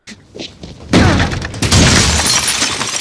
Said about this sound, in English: he starts smashing the phone and breaks the glass